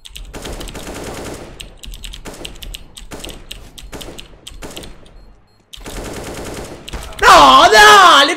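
Rapid automatic gunfire in a competitive shooter match fires in dense bursts with short pauses, then turns loud and chaotic near the end, up close with no talk over it.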